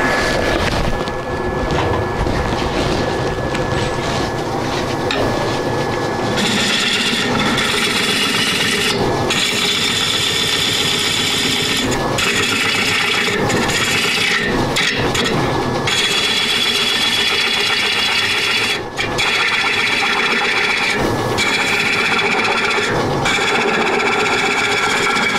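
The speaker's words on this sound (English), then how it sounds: "Never move when the lathe is turning." A wood lathe turning a green wood bowl from a log makes continuous close scraping and rubbing as the tool cuts, with a faint steady tone underneath and frequent brief interruptions throughout.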